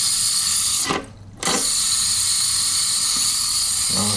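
Water rushes steadily into a slow-filling toilet tank with a faulty fill valve, a loud close hiss that briefly drops away around the one-second mark before resuming, with a small knock near the end.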